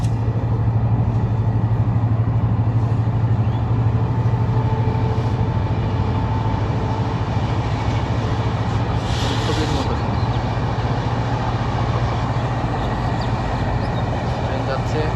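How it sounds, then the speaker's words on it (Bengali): A passenger train running from Khulna toward Dhaka rumbles steadily past rural fields along a rail line, a loud continuous low roar filling the whole stretch with no break. "এই ট্রেনটা হচ্ছে খুলনা থেকে আসছে, ঢাকার দিকে যাচ্ছে"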